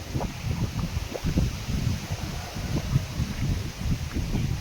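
Strong gusting wind buffets an open field, a continuous low rumbling roar that rises and falls with no voices.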